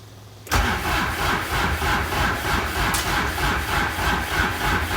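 A John Deere 240 skid steer's engine is cranked on the starter and catches, a sudden loud start followed by steady, rhythmic mid-pitched chugging close by, with no talking.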